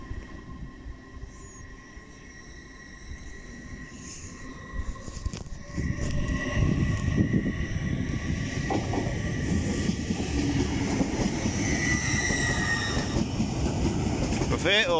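A TransPennine Express train from Newcastle to Liverpool Lime Street passes through Darlington station, with loud, steady rumbling and rail clatter that builds after a quieter start and continues to the end.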